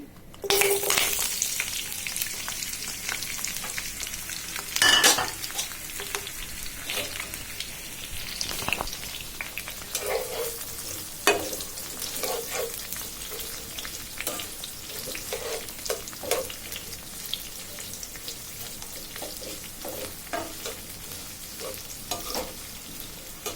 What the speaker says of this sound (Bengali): কড়াইতে তেল দিয়ে দিছি এবার পেঁয়াজ রসুন কেটে রাখা পেঁয়াজ রসুন কাঁচামরিচগুলো দিয়ে দিচ্ছি